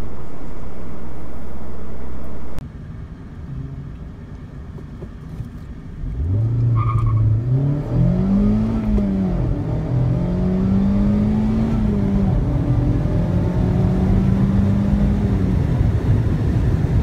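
A 2016 Mazda MX-5 Miata pulls away and accelerates, the engine note rising through the gears after an earlier brief idle, with wind and road noise steadily building around it.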